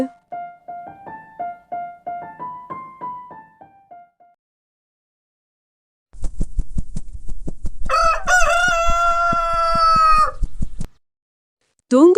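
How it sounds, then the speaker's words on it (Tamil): A rooster crows loudly and close by, a long harmonic call after rhythmic wing flaps, with clucking chicken calls earlier and a brief pause between. "அது தன் சிறகுகளை மூன்று முறை அடித்து சத்தமாக கம்பீரமாக குக்கு என்று கூவியது"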